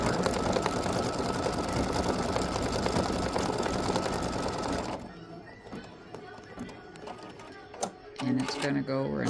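An embroidery machine on a 4x4 hoop stitches an orange flower in a fast, even mechanical chatter for about five seconds, then stops, leaving quieter clicks and handling noises.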